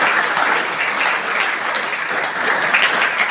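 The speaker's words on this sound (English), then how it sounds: "Big round of applause for everybody." Tenth-grade students at a public school AI program give a round of applause in the classroom, a loud dense burst of clapping that continues steadily for a few seconds without speech.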